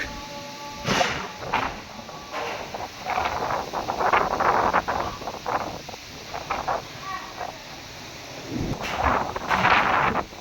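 Thunderstorm over Multan with heavy rain and strong wind: rumbling thunder bursts rise and fade over a steady wind-blown hiss, with a few faint voices in the background.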